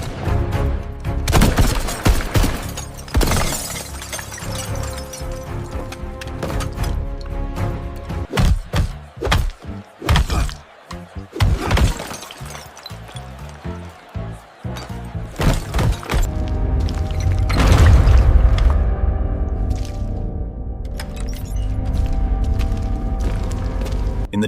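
Gunshots and explosions crack out during a film ambush: sharp, loud bursts and heavy thuds arrive in irregular clusters, with a deeper, rumbling blast building toward the end.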